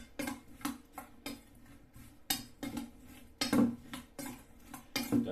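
Potato wedges tossed with oil, pepper and spices in a bowl, giving repeated clinking and scraping strokes of a utensil against the bowl in an uneven rhythm, close and moderately loud, with no talking.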